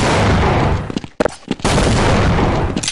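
Loud, close gunfire in the video game Counter-Strike: a dense stream of shots, a brief gap with a few sharp bursts, then heavy firing again.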